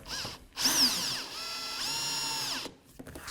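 A power drill whines in two bursts as it drives screws into hardboard, the motor pitch rising and falling, with short pauses between.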